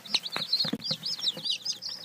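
Dark Cornish chicks peep continuously in rapid, high-pitched chirps, close and fairly loud, with soft shuffling and low rustles beneath.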